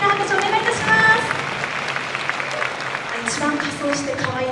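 After a band plays at the 2016 Ashiya Air Base air show, an outdoor audience gives a sustained round of applause while an announcer speaks over it.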